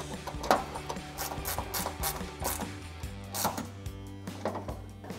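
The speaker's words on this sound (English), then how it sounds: "And now I'm going to be taking this angled ratcheting wrench" An angled ratcheting wrench tightening a headlight bolt on a 2019-2023 RAM 1500, making rapid, close clicking ratchet bursts in several short strokes with brief pauses between them.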